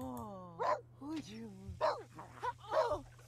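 A terrier in a video game barks several times in quick yelps and woofs, clear and fairly close, with an overlapping tonal whine or game sound between barks.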